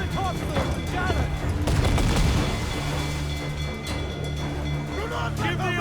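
Pirate ship cannons boom in an Assassin's Creed IV Black Flag naval battle, a heavy volley followed by scattered blasts amid crackling combat noise, with shouted voices over the action.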